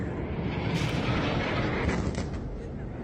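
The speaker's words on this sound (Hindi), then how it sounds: "विस्फोट हो रहा है।" Explosions in news footage of a fierce fire at Israeli-Lebanese border conflict targets, a dense continuous rumble of blasts and heavy booms, loud and sustained with muffled voices underneath.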